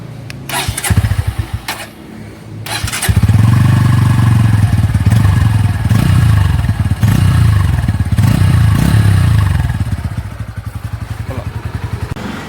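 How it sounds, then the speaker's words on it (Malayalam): A Bajaj Pulsar N150 motorcycle: a few clicks and cranking attempts, then the engine starts and idles with a loud, close, pulsing single-cylinder exhaust note that swells with revs before settling back. "നമുക്കിതിൻ്റെ ഒരു എക്സോസ്റ്റ് നോട്ട് ഒന്ന് കേട്ടോക്കാം അല്ലേ?"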